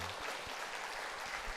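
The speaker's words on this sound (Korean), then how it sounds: "박수를 좀 드리도록 합니다." A church congregation applauds its choir, a steady wash of many hands clapping that fills the whole brief moment evenly at a moderate distance.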